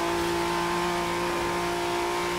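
A car engine holds a steady, droning rev in the racing game Forza Horizon 3, a continuous even tone with no talk.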